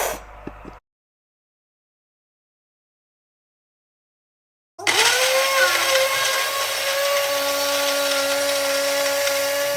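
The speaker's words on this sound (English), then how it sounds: "she's going to blend all the 4 ingredients in a blender until smooth" After a brief clatter and a few seconds of silence, a blender motor kicks in and whirs loudly and steadily, pitch rising then holding as it purées vegetables including bell pepper and garlic.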